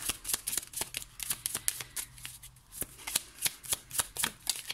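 Tarot cards shuffled by hand, a rapid series of crisp riffling flicks and slaps in close succession, fairly near and steady with a brief pause midway.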